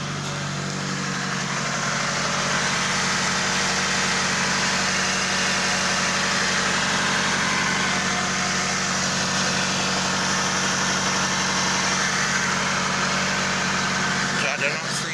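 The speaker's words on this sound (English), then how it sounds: "just let it set in idle and wait for the temperature hand to get to the middle" A 1997-2001 Toyota Camry 2.2 engine idles steadily and close by, a constant low rumble with a faint vibration that holds without change for the whole stretch, no voices over it.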